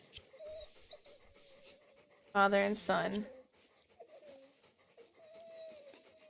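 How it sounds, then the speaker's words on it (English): Dogs panting in the video game The Pale Beyond, a brief burst of rapid breathy huffs lasting about a second, rising over a quiet background of low game music and a talking voice. "Oh, the dogs are panting."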